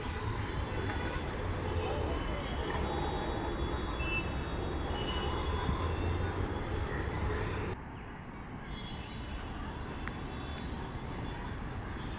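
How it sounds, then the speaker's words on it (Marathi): A Pune Metro train rolls past close by, a steady broad rumble with squealing wheels, easing off sharply near the end as the noise drops. "आता जी चाललेली आहे ही वनाजवरून रामवाडी साईडला जाणारी ट्रेन आहे"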